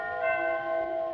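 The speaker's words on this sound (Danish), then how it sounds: "nu ringer klokkerne julen ind." Church bells ring in Christmas in a 1923 recording, a steady tonal chime with sustained overtones, moderately loud and alone.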